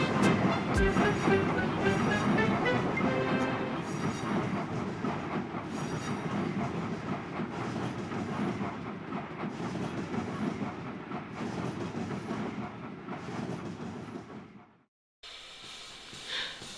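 A train pulling empty coaches rumbles past steadily with rhythmic clattering of wheels over rail joints, fairly loud, then cuts out abruptly near the end.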